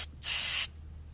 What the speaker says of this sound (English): Just use the spray, and you can see it down here as well.